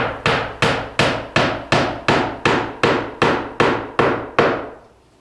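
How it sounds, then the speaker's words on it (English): Hammer driving nails into the vinyl nailing fin of a window being installed, eleven loud, evenly spaced strikes with ringing decay, close and clear with no talking. "You don't want to drive the nails home too far, or you risk cracking the vinyl nailing fin."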